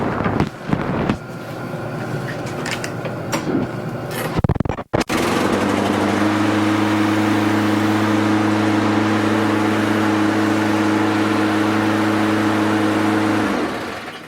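A John Deere JS45 lawn mower engine runs at a steady, droning idle outdoors after a few seconds of handling clatter. It stays loud and even until it cuts off near the end.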